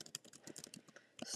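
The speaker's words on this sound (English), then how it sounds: "we're going to type that right into Google" A quiet burst of rapid keystrokes on a computer keyboard as a search phrase is typed, light irregular clicks up close with no one talking.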